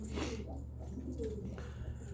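Homing pigeons coo softly in a pigeon loft, low murmuring calls repeating over a steady background hum, fairly faint and close.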